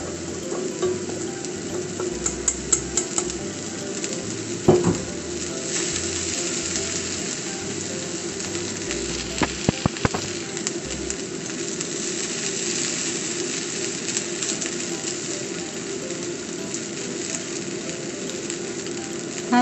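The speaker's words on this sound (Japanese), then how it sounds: "煙が出てきたので火を中火にして焼いていきます。" Cabbage and cheese pancake sizzling steadily in a frying pan over medium heat, a constant close crackle and hiss with a few sharper pops and clicks, no voices.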